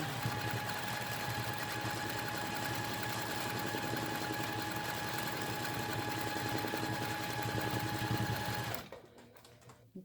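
A sewing machine stitching free motion quilting swirls runs at a steady fast whir with a constant tonal hum for about nine seconds, then stops abruptly, leaving near quiet.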